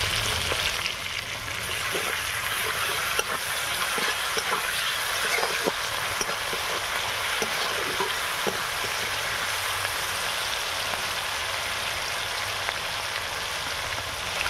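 Ginger garlic paste frying in a pan for kabuli chana ghugni, giving a steady, dense sizzle with light crackles that holds evenly throughout and stays close, with no talking.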